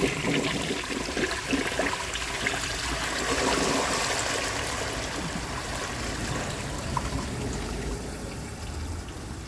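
A 1959 Standard Compton toilet flushes a washcloth and grocery bag in one steady, loud rush of water that runs the whole stretch and eases slightly toward the end.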